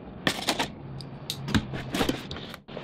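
Pocket knife slicing through packing tape sealing a Loot Crate cardboard box, a run of close, scratchy cuts and tearing rasps with brief pauses between strokes.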